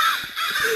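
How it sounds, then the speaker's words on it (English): A crow caws in the Rec Room video game, a couple of short, close, harsh calls that stand alone with no talk over them. "There's a crow underneath that hat."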